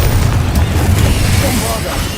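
A Confringo spell blast in Hogwarts Legacy: a loud, continuous rumbling burst with dense low booming throughout, heavy game combat noise without clear separate hits.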